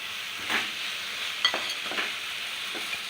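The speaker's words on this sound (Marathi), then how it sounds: "आता मी ह्याच्यामध्ये हे 4 टोमॅटो बारीक चिरलेले घालते" Chopped tomatoes tipped into softened sautéed onions for a home-made Indian chicken masala, giving a faint steady sizzle with a few soft scraping stirs of a spoon in the pan, no voices.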